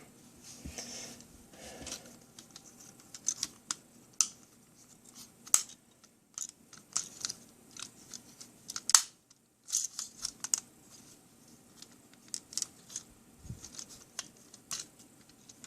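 Paper parts of a Boldforms BSC-01 Lonewolf papercraft model being folded by hand, giving close, scattered crisp crinkles and sharp snaps in an irregular rhythm over a quiet background, with no talking.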